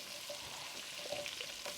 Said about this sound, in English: we're going to lay the asparagus in the butter, and it doesn't take long to cook at all